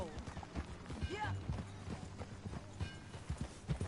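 Horse hooves clip-clopping at a walking pace in the Western video game Red Dead, a steady rhythmic patter under game music and voices speaking.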